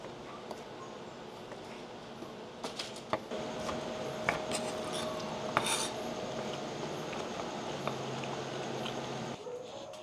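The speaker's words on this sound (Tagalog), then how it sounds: "So hiwain lang natin ng maninipis." A knife thinly slices grilled meat for Ilocano dinakdakan, producing irregular quiet taps and sharper clicks of the blade against a cutting board over a low kitchen background.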